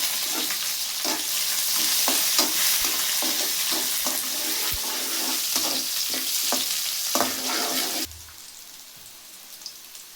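Green chillies and curry leaves crackle and sizzle in hot oil as jeera rice is started, a loud dense frying hiss with sharp popping bursts throughout, cutting off abruptly near the end to a quieter background.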